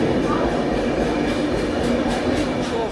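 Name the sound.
Valsad–Vadodara Intercity Superfast Express train passing on platform 1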